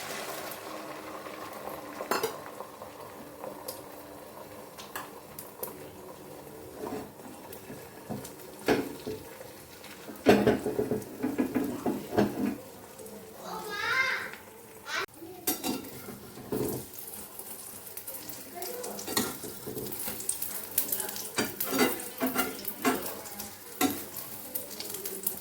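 Beaten egg mixed with chopped onion, no chilli, fries in hot oil, a steady close sizzle running throughout, punctuated by clinks and scrapes of a utensil against the pan.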